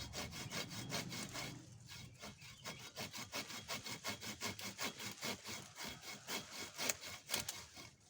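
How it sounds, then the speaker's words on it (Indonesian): Hand saw cutting through a kedondong tree branch outdoors, a close, steady rhythm of rasping back-and-forth strokes that speeds up into quick regular cuts, with no talking. "Kita gergaji saja, kawan."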